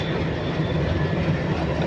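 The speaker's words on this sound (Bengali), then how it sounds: "আমাদের ট্রেন একদম রাইট টাইমে ছেড়ে দিয়েছে খুলনা রেলওয়ে স্টেশন থেকে" Inside the Kapotaksha Express leaving Khulna railway station, a short, steady rumble of the moving carriage, dense and fairly loud, with no voices.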